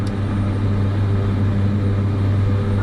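Airliner engines in Microsoft Flight Simulator 2024, a steady loud low drone and hum at takeoff power on the runway, continuous without change, with no talk.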